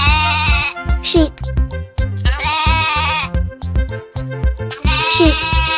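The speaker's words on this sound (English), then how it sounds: "Sheep." Sheep bleat in three wavering, nasal calls at an even spacing, loud and close over an upbeat children's song accompaniment.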